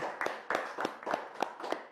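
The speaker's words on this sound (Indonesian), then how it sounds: "Tepuk tangan dong" Slow, evenly spaced hand claps, about seven over two seconds, fairly faint and close, with a voice lightly present between claps.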